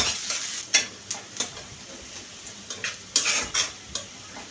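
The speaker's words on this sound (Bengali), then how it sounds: "কড়াইয়ে তেল দিয়ে, তেলটা গরম হয়ে গেলে পেঁয়াজ কুচি দিয়ে দিব।" Chopped onion fries in hot oil in a wok, a steady close sizzle broken by repeated scraping and clinking strokes of a spatula against the pan, no talking.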